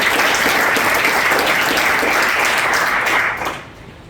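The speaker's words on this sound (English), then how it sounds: "just a round of applause for all our sponsors to help us make this" Loud, dense applause from a meetup audience in a university building, sustained at full strength for about three seconds before tapering off quickly into quiet.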